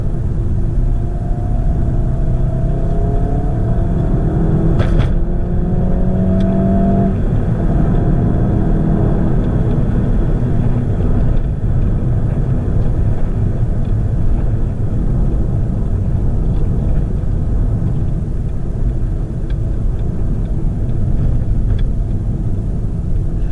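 Volkswagen Golf GTI pulling hard through the gears from inside the cabin, a steady loud engine drone rising in pitch, dropping at shifts and climbing again, with no talking over it.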